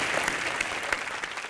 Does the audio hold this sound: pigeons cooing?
no